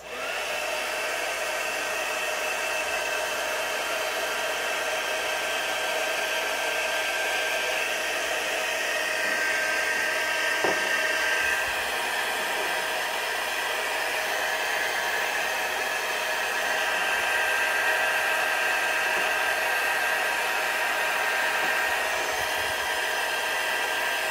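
Hot air blower softening a plastic part, giving a steady, even whooshing hiss that runs unbroken and fairly quiet throughout, with a faint whine and a few light handling clicks.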